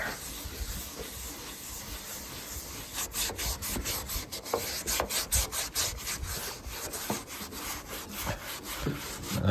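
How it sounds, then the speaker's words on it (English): Close, gritty rubbing scrapes across old, dry paint on a barn-find VW Transporter, a steady hissing rasp with rhythmic back-and-forth strokes that grow louder toward the end. "You can kind of hear the grit there"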